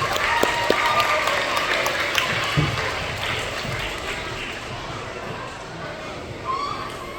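Applause from a school assembly crowd for a class at an elementary school awards gathering, a steady broadband wash of many hands clapping that holds for several seconds, with children's chatter and crowd noise mixed in.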